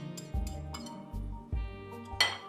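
Orange cake batter with grated orange zest is stirred in a bowl, a utensil clinking and scraping against the dish in several short bursts close by, with no speech.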